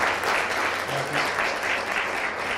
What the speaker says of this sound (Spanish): un aplauso para Patricia